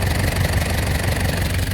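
The engine of a 1991 Mazda Titan truck idles just after being started for the first time, a loud, steady, close low rumble with a faint knocking throb.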